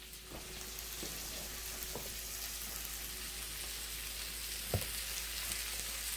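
A tortilla heats on a hot pan with a soft, steady sizzle and hiss, faint and continuous, broken by a few light taps and one small knock.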